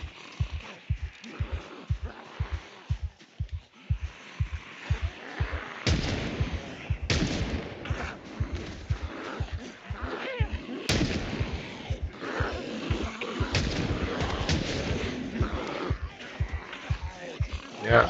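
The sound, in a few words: gunfire volley in video game Project Zomboid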